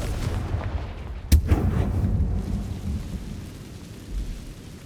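The Confringo blasting spell from a video game detonates in one sudden booming explosion, followed by a rumbling low tail over ambient game sound.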